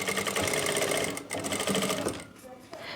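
Sewing machine stitching a kurti panel, a fast continuous mechanical whirr and clatter close by that cuts out briefly near the end, with a voice talking over it.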